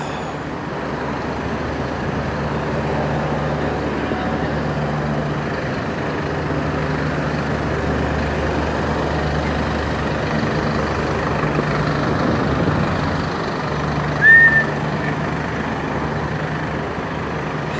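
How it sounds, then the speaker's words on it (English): Lined-up cars and trucks idle and creep along in heavy evacuation traffic, a steady low engine rumble filling the scene with a brief louder vehicle sound near the end. "Look at the lineup of cars."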